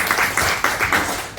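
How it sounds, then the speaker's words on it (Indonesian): Church congregation applauding during a service, a short burst of clapping with a few louder surges, fairly close and filling the room. "Boleh berikan tepuk tangan yang paling"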